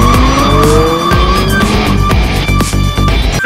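A car doing a burnout, its tires squealing loudly and continuously over a roaring engine that revs and falls in pitch, close and alone with no talking.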